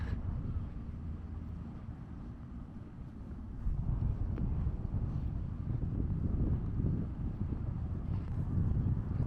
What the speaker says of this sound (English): It's just a little windy, not crazy wind.